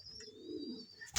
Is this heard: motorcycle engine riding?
no